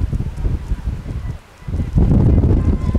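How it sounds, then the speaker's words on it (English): Gust of wind at an outdoor softball game, rumbling microphone buffeting that dips briefly before a stronger blast surges in. "There's a gust of wind, Dick."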